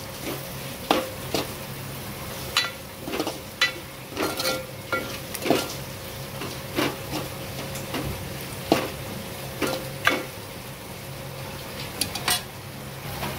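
Red chili masala, coriander powder and turmeric sauté in oil for sambar, with repeated metal spoon clinks and scrapes against the pan over a faint, low sizzle.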